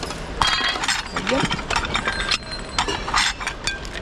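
A Pyrex glass dish breaking among discarded household items at a dump, with sharp clinks and crunching glass fragments over several seconds as people talk nearby.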